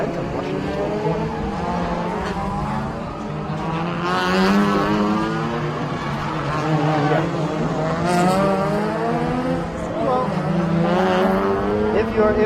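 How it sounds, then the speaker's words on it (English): Race cars at the Bangsaen Grand Prix in Thailand's TSS 2019 series rumble and scream past on the track, engine notes repeatedly rising and falling as cars pass close by in quick succession. "you're gonna actually hear the rumble. You're gonna see the cars zip by."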